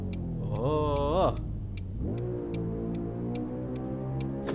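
A Tofaş Şahin car engine in Euro Truck Simulator 2 hums steadily and loudly, with a rising rev early on, then drops and climbs again while a regular clock-like ticking, likely the turn signal, repeats throughout.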